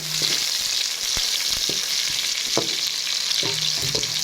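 Steady sizzling of onions frying in a pan, with occasional scrapes and taps of stirring over the constant crackle.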